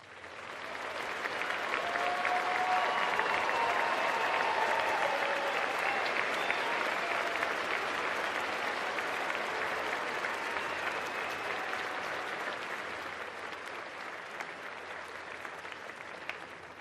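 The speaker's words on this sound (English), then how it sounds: "Please join me in giving these amazing men and women a round of applause." Sustained audience applause for military veterans at a 2022 graduation ceremony, a steady wash of many hands clapping that swells quickly, holds loud and even for over a dozen seconds, then tapers slightly.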